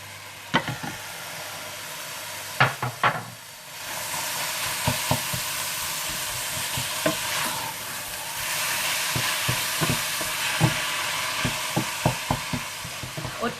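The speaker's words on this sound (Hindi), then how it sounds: "आप इसमें कीमा डाल दें और अच्छी तरह से भून लें तेज" Minced meat frying with onion and garlic in a pan on high heat, a steady loud sizzle with scattered stirring clicks and scrapes throughout, no talk.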